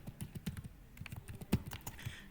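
HTML code typed on a computer keyboard, a quick uneven run of close key clicks with a couple of louder strokes, heard alone in a quiet room.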